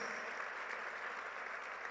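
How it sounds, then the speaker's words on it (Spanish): A church congregation applauds, producing a continuous hiss of many hands clapping at a steady level, faint and somewhat distant, with no talk over it. "Vamos a darle un aplauso al Señor bien fuerte, porque Él nos da sus promesas."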